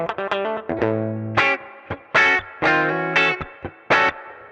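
Electric guitar on the bridge humbucker played through a Hotone Ampero II, giving distorted, chorused tones in punchy stabs and short chord bursts with brief gaps, loud and up close with no voices.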